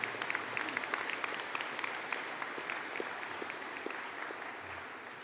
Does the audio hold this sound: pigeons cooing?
no